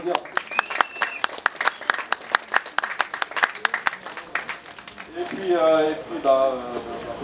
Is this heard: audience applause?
yes